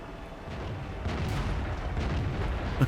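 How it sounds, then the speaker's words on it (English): Artillery shells hitting a tank in World of Tanks, heard as a steady low rumbling barrage of muffled booms with a sharper thump at the very end, fairly close and continuous. "And the artillery's hitting me."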